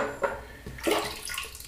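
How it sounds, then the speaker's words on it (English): Water being added to a shaving brush while preparing Saponificio Bignoli Violetta di Parma shaving cream, heard as a few brief trickles and splashes, fairly quiet and close. "Add a bit of water to the brush."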